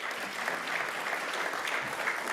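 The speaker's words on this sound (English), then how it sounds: "Big round of applause" Continuous applause from an audience at a United Nations meditation event, a thick, even wash of many hands clapping at once.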